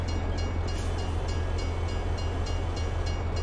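Train in the video game Farming Simulator 22 rumbling past in a steady, dense roar with a low hum underneath and faint regular clacking, loud and unbroken throughout.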